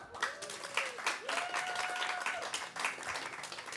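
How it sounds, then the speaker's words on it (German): Audience applause for Kevin at a campus event at University:Future Fest, moderate clapping from a crowd with a voice speaking faintly through it. "Einen ganz herzlichen Applaus bitte auch nochmal für Kevin im Publikum."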